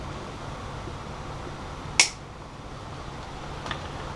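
Single sharp snip as a zip tie is trimmed off during a Minn Kota Talon quick electric disconnect install, a crisp close click over quiet background with a faint second tick after.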